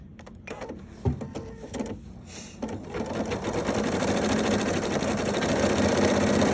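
A PFAFF creative 4.5 embroidery machine stitching a design, starting with a few clicks and knocks before settling into a steady, loud, continuous mechanical whir of rapid needle strokes that grows slightly over several seconds.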